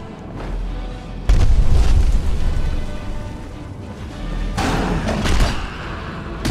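Fire breath dragon shout in Skyrim, a sudden loud roaring blast that kicks in and sustains as a broad rushing boom, then surges again later with heavy thuds, no talk over it.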